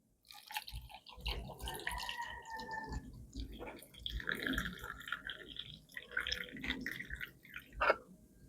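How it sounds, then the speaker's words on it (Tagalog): Hot water poured into a cup of guyabano malunggay tea, an irregular gurgling trickle with dripping splashes, close and moderately loud, ending in a sharper clink. "Tagan lang po natin ng hot water."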